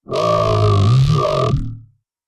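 A synthesized bass note pushed through OTT with upward expansion at maximum, a loud, dense, buzzy sustained tone with bright fizzy upper texture, held for about a second and a half before cutting off.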